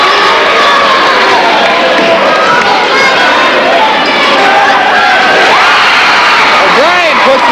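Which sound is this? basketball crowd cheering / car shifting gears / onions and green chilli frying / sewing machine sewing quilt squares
basketball crowd cheering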